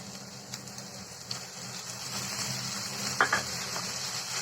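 Boiled potatoes are sautéed in a pan, oil sizzling steadily while a utensil scrapes and clinks against the metal a few times, close and moderately loud.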